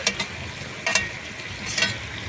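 Prawns and green chilies hit a hot pan of soft cooked ridge gourd in a village kitchen, giving a steady close sizzle with a few sharper crackling bursts, no voices.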